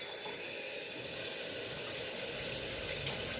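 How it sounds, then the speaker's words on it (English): Tap water runs steadily in a home kitchen while hands are washed during baking, a continuous close hissing splash with no talking. "wash my hands."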